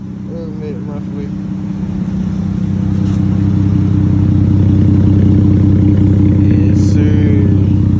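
2016 Dodge Charger 3.6L V6 with dual exhaust and muffler delete, running close by with a loud, deep, steady drone that swells as it is revved, while someone speaks briefly over it.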